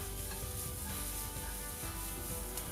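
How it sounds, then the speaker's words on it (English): Shallots and chard stems sautéing in a pan give a steady, even sizzle throughout, soft and constant with faint stirring textures and no voices. "I took some shallots and the shard stems and sauteed them"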